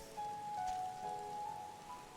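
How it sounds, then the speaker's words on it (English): Rain falls in the Final Fantasy XIV Shadowbringers game world, a soft, even patter under a sustained tonal hum, faint and steady throughout the short stretch with no speech. "Oh my gosh, it's raining."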